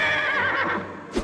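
A cartoon horse ridden by the headless horseman gives a loud, close whinny that wavers and fades, followed by a brief hoof clop at the end.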